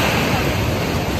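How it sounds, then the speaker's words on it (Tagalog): Strong ocean waves surge and wash continuously close by at a fishing spot, a loud, roaring rush mixed with wind buffeting the microphone. "Lakas na yung alon"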